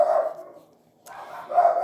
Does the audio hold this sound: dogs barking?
yes